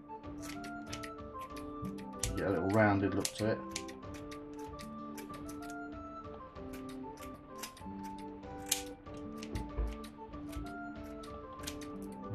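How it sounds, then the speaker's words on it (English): Hand scissors snip the squared edges of a small hedge to round them off, crisp repeated cuts in a loose irregular rhythm, close by, with someone talking over them. "I'll take my scissors, all the squared edges bit, just round them off."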